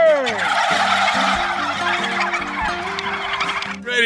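A flock of free-range turkeys gobbles loudly and repeatedly in a dense overlapping chorus, the calls rising and falling for several seconds close by without a break.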